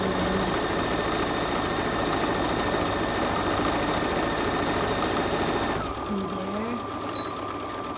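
A sewing machine stitches a seam in a steady, fast mechanical whir that runs for several seconds, then stops, leaving a quieter hum.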